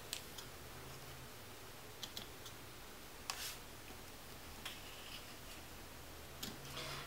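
Scissors snip the ends of a ribbon in a few faint, separate clicks against a steady quiet hiss.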